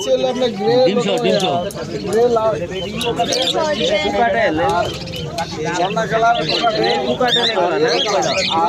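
Pigeons coo softly at a Friday pigeon and bird market in Sreepur, Gazipur, beneath a steady hubbub of nearby voices, with occasional chirps cutting through the crowded, busy surroundings.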